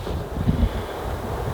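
Wind blows steadily outdoors on an overcast, chilly fall day, a low rumbling buffet against the microphone with a couple of brief stronger gusts and no talk.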